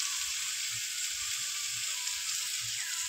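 Koi fish sautéing in hot oil with salt and turmeric, a steady close sizzle with broad hissing texture and faint stirring bumps underneath, no voices.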